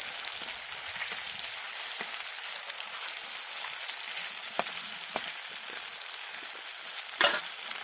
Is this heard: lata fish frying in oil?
yes